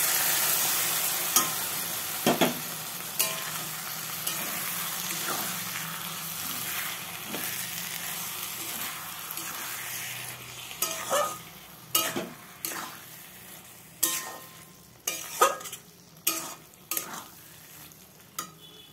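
Prawns sizzle in a pan after a flour-water mixture goes in. The sizzle starts loud and steady, then fades while repeated sharp spatula knocks and scrapes against the pan come in irregular bursts.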